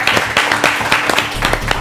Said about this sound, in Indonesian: Maka dari itu, tepuk tangan karena Teguh berhasil lolos ke 8 besar.